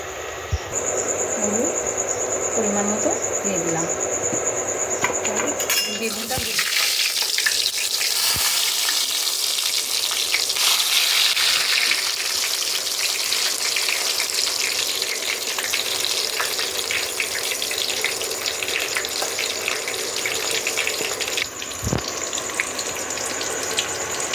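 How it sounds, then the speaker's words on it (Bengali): Oil sizzles and hisses steadily as brinjal slices fry, a dense crackle that goes on without a break after a brief quieter opening. "বেগুনগুলো হালকা করেই ভেজে নেব"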